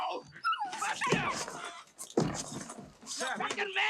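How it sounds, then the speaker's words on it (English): A puppy in a scene from the 1979 film Apocalypse Now whimpers and yips in brief high cries, mixed with overlapping talk and a few thumps. "It's a fucking puppy."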